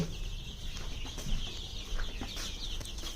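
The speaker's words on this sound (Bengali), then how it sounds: "এখন আমার টোটাল চল্লিশটা মুরগির বাচ্চা আছে সব দেশি মুরগি" A flock of about forty young desi chicken chicks cheeps and clucks together, a busy, continuous chatter over a low background hum, with no one speaking.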